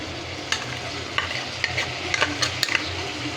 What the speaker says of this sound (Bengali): দিয়ে ভালো করে ভাজা ভাজা করে নেব।